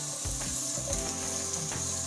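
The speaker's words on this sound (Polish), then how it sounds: "Teraz wrzucam cebulkę i będę ją chwilę smażyć." Onions sizzle steadily in hot coconut oil in a pot, a bright constant frying hiss with a few soft stirring knocks.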